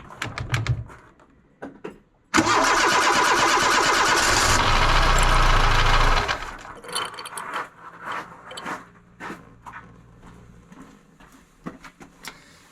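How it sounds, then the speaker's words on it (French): A Peugeot 205 Turbo engine is cranked over on its starter motor for about four seconds, a loud steady whirring churn that stops abruptly. Workshop clatter and small knocks follow. "prochaine étape, faire tourner le démarreur et vérifier que ça pisse l'huile là dessous"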